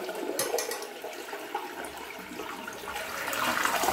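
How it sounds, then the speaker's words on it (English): A toilet fitted with a new tank kit flushes in a single rushing surge of water that swirls steadily and grows fuller toward the end, close and loud, with no talking. "So let's flush and see."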